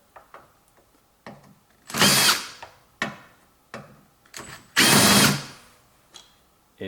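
A power drill backs out Torx security bolts on a washing machine, with two long whirring bursts and several shorter ones separated by quiet clicks and handling noise, close and loud.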